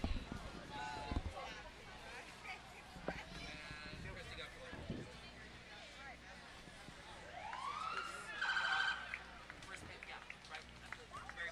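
Squad Engine 51, a fire truck at a public event, sounds a brief rising siren wail partway through, amid crowd noise and talking.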